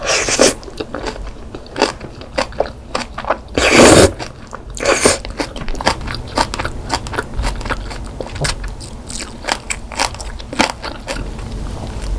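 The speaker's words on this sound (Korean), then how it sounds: "오늘 준비한 먹방은 아구찜 매운 아구찜 준비했습니다" Spicy braised monkfish (agujjim) is eaten up close in a mukbang, with dense, rapid crunchy bites and chewing clicks throughout and one louder, longer crunch near the middle, with no talking.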